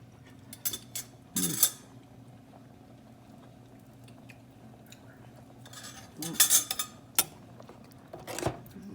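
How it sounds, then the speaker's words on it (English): A spoon clinks against a pot of hot black-eyed peas as juice is scooped out, giving a few sharp metallic scrapes and taps over a low, steady simmer with bubbling liquid. "Get my spoon, my extra spoon. Get some of the juice out because it's hot."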